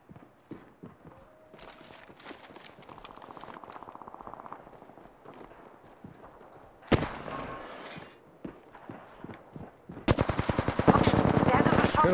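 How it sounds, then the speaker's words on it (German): Rapid bursts of automatic gunfire crackle in Apex Legends, some distant and sparse, then two loud close volleys, with footsteps and muffled talk in between. "Ja, doch Schüsse."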